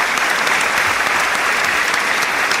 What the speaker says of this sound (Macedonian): Заслужуваат аплауз земјоделци.